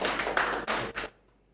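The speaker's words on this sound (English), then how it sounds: "Can we give him a round of applause?" A brief burst of close, hollow clapping from a small audience at a political forum, a few loud pulses that cut off abruptly into near silence.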